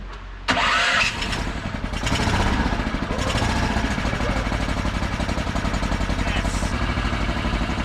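A small Honda GX340 gasoline engine, swapped into a PZ30, sputters to life with a sharp start, then settles into a steady, close, rapid idling putter that runs throughout.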